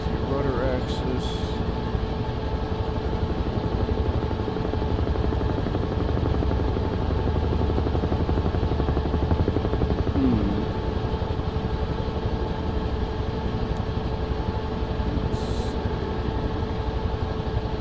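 Huey helicopter in MSFS 2024, flying over Korea: a loud, continuous turbine whine with steady rotor thrum throughout, with a few faint clicks on top and no break in the engine noise.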